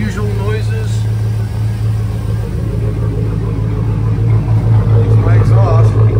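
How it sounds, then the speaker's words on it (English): A 2006 Chevy Silverado with the 5.3L V8 idles close by, its exhaust giving a steady low rumble with a slight throb that swells near the end, while someone talks over it. "It's my exhaust."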